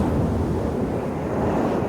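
Steady roaring wind and crashing surf buffet a remote inhabited South Pacific island in the stormy roaring forties, a dense continuous rumble with gusty wind noise on the microphone and no voices.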